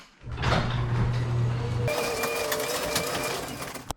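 A newly installed belt-drive garage door opener runs, its motor humming loudly at first and then shifting to a steady mechanical whir with rattling as the door opens, ending in a clunk.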